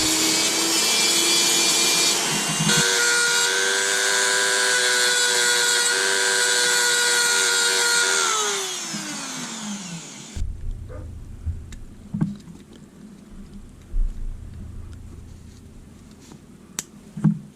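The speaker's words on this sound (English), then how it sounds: "So we're just going to take the Dremel. We're going to just ream it out a bit and get them on there." A Dremel rotary tool reams out plastic standoffs with a loud, high, steady whine for about eight seconds, then spins down and stops, followed by quiet clicks and handling knocks.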